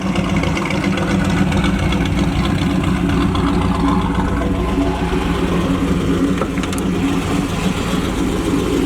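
A 1969 Chevrolet Camaro Z28 with a 302 V8 and chambered exhaust, heard from close by as a loud, steady, deep exhaust rumble that holds at an even idle-like level for nearly nine seconds, with no talking.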